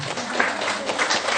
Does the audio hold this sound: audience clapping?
yes